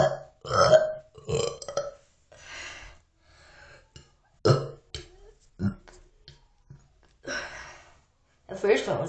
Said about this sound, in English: So, hope you enjoy the burps.